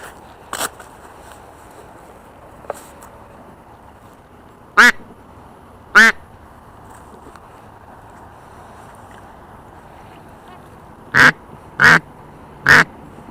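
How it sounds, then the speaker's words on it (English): A family of mallard ducks quacks outdoors near water, with loud, short bursts spaced across the stretch and a quick cluster of three near the end. Soft wind noise fills the background. "We got the mallards, the mallard family coming up."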